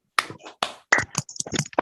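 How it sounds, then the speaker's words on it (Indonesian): A class performs a rhythmic patterned clap together in a primary school lesson, a short sequence of sharp, close, distinct claps and slaps in quick bursts with brief gaps between. "1, 2, 3. Tepuk salut."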